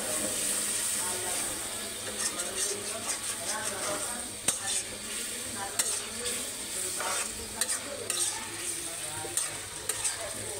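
Tomato and potato sizzle and hiss in hot oil for a pabda fish curry while a spoon stirs them with steady scraping strokes. The frying noise stays loud and close from start to finish.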